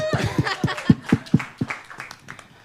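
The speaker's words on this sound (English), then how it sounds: "And another big round of applause to me" An audience at a writers' gathering in Kigali, Rwanda claps for the host: a run of steady, fairly loud claps mixed with laughter and chuckles, with the clapping thinning out toward the end.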